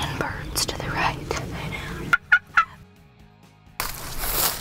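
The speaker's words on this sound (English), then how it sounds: "We saw three gobblers, and we saw five gobblers and three jakes." Wild turkey gobblers out in the field let out a quick, loud gobble in three sharp bursts, framed by hushed whispering before and after.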